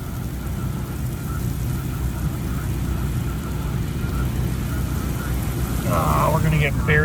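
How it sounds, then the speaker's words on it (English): Heavy storm rain pours down around a Chevrolet TrailBlazer during a Mississippi storm chase, a dense, steady roaring wash with brief murmured voices near the end. "we're gonna get buried by rain."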